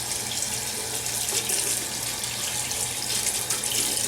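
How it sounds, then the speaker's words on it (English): Tap water runs steadily into a sink as hands and a shirt are rinsed beneath it, a close, continuous splashing wash with no voices. "And now, just washing off my hands and my shirt."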